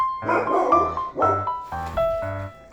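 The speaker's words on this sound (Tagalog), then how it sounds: "Ang ingay ng aso ko po" A dog barks repeatedly, about five loud, close yelping barks in quick succession with short pauses between them.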